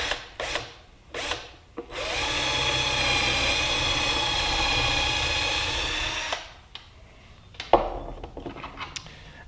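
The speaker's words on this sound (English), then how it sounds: "First thing I want to do is drill this hole." A power drill bores a hole into a gray wooden table, a steady whining buzz for about four seconds, preceded and followed by short knocks and handling clatter.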